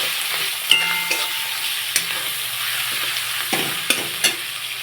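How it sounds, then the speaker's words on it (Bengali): Koi fish sizzling in hot oil with turmeric and salt: a steady, close frying hiss broken by several sharp clinks and scrapes of stirring. "দিয়ে দেবো হলুদ, একটু কষিয়ে নেব"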